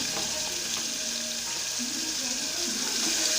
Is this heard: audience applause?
no